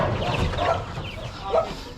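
A Rhode Island hen clucks in a few short, soft bursts close by, with light background noise and some talking around it.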